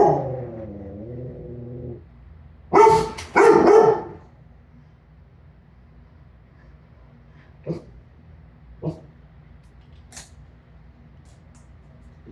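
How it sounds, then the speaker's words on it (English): A dog growls low and drawn out, then lets out two sharp, loud barks close by, followed by a few quieter scattered yips and sounds in a mostly quiet room. "the dog growling at them."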